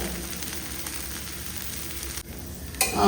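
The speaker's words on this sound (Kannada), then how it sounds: "ಫ್ರೈ ಆಗುವಾಗ ಪರಿಮಳ ಬರ್ತದೆ ಒಳ್ಳೆ ಪರಿಮಳ ಬರ್ತದೆ ಬಟರ್ ಮತ್ತೆ ಗಾರ್ಲಿಕ್ ಫ್ರೈ ಆಗುವಾಗ" Butter and garlic frying in a pan give a steady, close sizzle that runs throughout, with a brief dip and a sharper burst near the end, and no voices.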